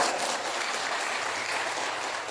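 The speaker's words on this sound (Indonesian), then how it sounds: "Tepuk tangan buat mereka" A church congregation applauds the seated musicians at the back of the sanctuary, steady dense clapping throughout, moderately loud and fairly close, with no speech over it.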